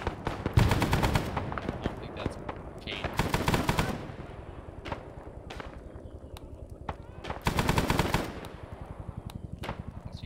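Rapid bursts of automatic gunfire and scattered single shots from the video game Arma 3 Vietnam, loud and repeated in several long volleys with distant cracks between, during a hilltop firefight.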